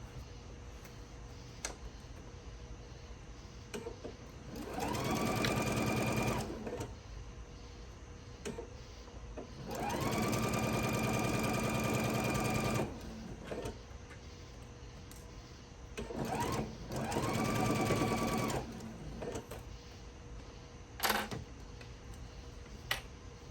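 A sewing machine stitches a Christmas tree table runner seam in three separate bursts of whirring, each a couple of seconds long, with quiet handling clicks in between.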